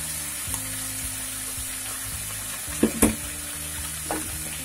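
Cucumber frying in masala in a pan, a continuous sizzle with a background hum, broken by a few knocks and scrapes of a spoon stirring it.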